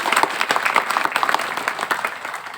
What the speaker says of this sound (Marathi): एकदा टाळ्या वाजवा तुमच्यासाठी